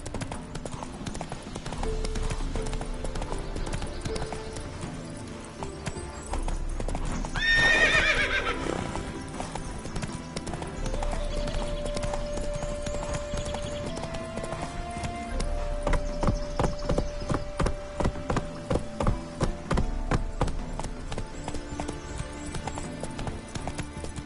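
Horse hooves clip-clop steadily through the Witcher 3 game world, with a whinny breaking out midway and music-like tones underneath; a man mutters briefly.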